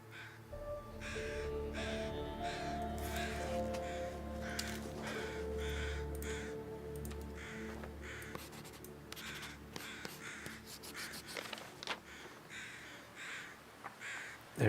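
Crows circling in the survival video game The Long Dark give repeated loud caws in steady bursts over a constant low wind-like ambience.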